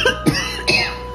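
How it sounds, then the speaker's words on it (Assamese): A woman with a heavy, persistent cough lets out two short, harsh coughs close by, about half a second apart, over a steady background hum. "তাইৰ কাহ বহুত হৈছে"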